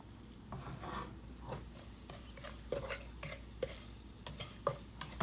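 Salt and whole spices, including cardamom, toasting in a pan for dill pilaf: a soft, low sizzle runs beneath intermittent scraping and clinking as a utensil stirs against the pan, with quiet stretches between the louder strokes.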